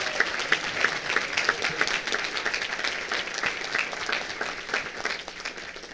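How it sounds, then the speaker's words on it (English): Sustained applause from an audience honoring a senior at a high school academic league event, steady dense clapping throughout with slight swells, fairly near and filling the room. "let's give her a huge round of applause"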